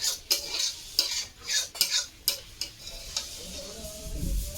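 Chicken curry gravy ladled from a pot into a bowl, a quick series of metallic clinks and scrapes of the ladle against the rim, with a faint sizzle underneath.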